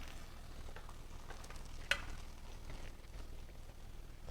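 Eggplant being stir-fried in a generous amount of oil, a quiet steady sizzle with scraping stirs and one sharp clink of a utensil, faint and without talk.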